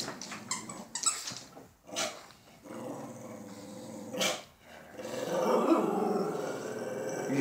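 A dog growls in bursts while tugging and playing with a toy indoors, close and fairly quiet, with squeaky rubbery noises and a louder, sustained growl near the end.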